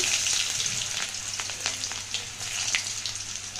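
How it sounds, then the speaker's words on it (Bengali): Chopped onion frying in mustard oil with five-spice (panch phoron) in a wok over a gas flame, a steady close sizzle with scattered crackles and pops throughout, no talking. "গ্যাসে বসিয়েছি কড়া, দিয়েছি সর্ষের তেল আর একটু পাঁচফোড়ন দিয়ে দিলাম, আর দিয়ে দেব পেঁয়াজ কুচি"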